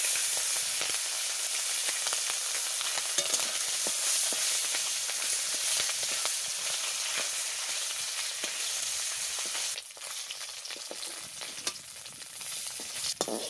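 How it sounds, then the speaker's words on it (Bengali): Fish frying in hot oil in a home kitchen pan, a steady, dense sizzle running close and loud throughout with small crackles and spatters, and no voices. "তেল দিয়ে দিচ্ছি। হয়ে গেছে, আমি মাছ দিয়ে দিচ্ছি।"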